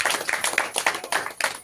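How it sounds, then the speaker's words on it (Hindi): Audience clapping at a Christian sermon, a run of sharp hand claps in bursts across a hall, loud and close with no speech over it. "जोरदार ताली बजाइए।"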